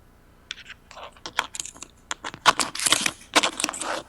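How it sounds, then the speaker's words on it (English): Typing on a computer keyboard comes through an online call with poor audio: irregular clusters of sharp clicks and rattling keystrokes, close and fairly loud, with no voice. "I can hear you rattling on the keyboard."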